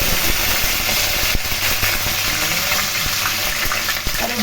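Curry leaves and dried red chillies crackling in hot oil for sambar, a loud continuous sizzle with dense popping and spattering close up, no voices over it.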